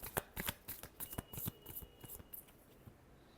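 Tarot cards being shuffled by hand in a quick series of soft riffling slaps, close and quiet, with no talking.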